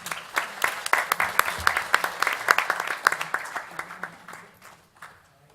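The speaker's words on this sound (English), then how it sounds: "Everyone give Connie a round of applause" Applause for an interpreter at a community forum on Latinos and higher education, a few seconds of scattered, crisp hand claps that swell and then thin out and fade to quiet.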